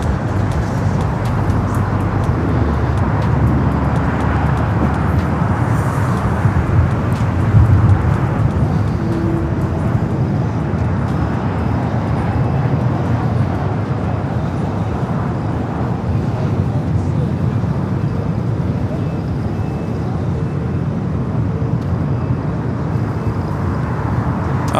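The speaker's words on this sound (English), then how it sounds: "Qantas Flight 11 coming in from Sydney, Australia. The A380 Super running about 23 minutes ahead." A Qantas Airbus A380 arriving at LAX from Sydney produces a loud, sustained low roar that fills the whole stretch, fairly even with a slight swell partway through, mixed with a broad traffic-like rumble.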